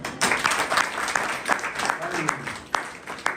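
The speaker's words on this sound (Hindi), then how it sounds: "क्या ताली देंगे आप?" Audience at a church convention in Chhindwara claps in a loose, moderately distant burst of applause, with scattered louder claps and a voice talking over it.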